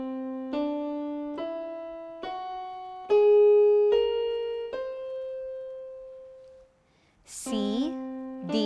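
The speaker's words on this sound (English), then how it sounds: "While the whole tone scale sounds like this." A whole tone scale climbs step by step on a piano-like instrument, about six evenly spaced notes with the last one sustained and fading, followed by a brief bright chime at the end, with no talking.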